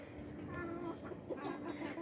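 Large hens cluck in a farmyard coop, a steady close chorus of low throaty clucks and murmurs with a few sharper calls rising over it, moderately quiet throughout.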